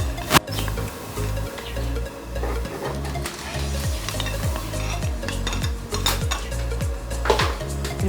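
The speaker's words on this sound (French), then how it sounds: "continuer à introduire nos boules dans notre marmite" Dough balls going into a cooking pot over lowered heat, with repeated rhythmic scraping and clinking against the pot and a soft sizzle underneath.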